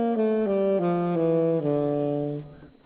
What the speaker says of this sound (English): a scale sounds like this